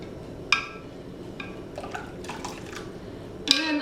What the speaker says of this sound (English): just keep stirring until the sugar is dissolved